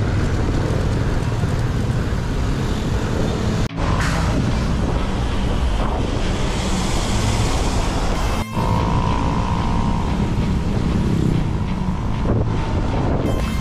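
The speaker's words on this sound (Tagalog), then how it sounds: "Ang lakas ng hangin." Strong wind buffets the microphone outdoors on the road toward Carmona, Cavite, a loud continuous roaring rumble that never lets up, with two brief dropouts and faint traffic beneath.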